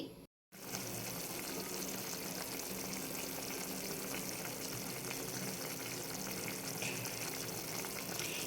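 Brinjal chutney simmers in a covered pan on the stove, a steady soft bubbling and sizzling hiss that runs on evenly after a brief silent gap at the start.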